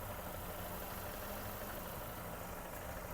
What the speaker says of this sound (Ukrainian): Працює двигун, так як він і має працювати